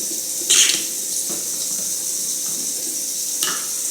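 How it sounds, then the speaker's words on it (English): Water runs steadily into a container of homemade fresh-squeezed lemonade, a close, continuous splashing pour with a couple of brighter splashes, no talk. "I'm going to add maybe 1 more cup of water"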